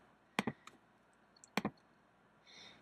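Mouse buttons clicking on a computer while the command key is held, two quick double clicks about a second apart, crisp and close in a quiet room.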